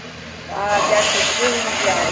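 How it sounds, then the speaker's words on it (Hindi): Tempering spices with red chillies hit hot oil for idli sambar and burst into a loud, steady sizzling hiss about half a second in, which keeps going to the end. "देखिए इसमें तड़का लगाएंगे"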